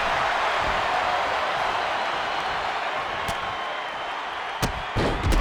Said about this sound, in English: Drop kick, hits hard, lands harder.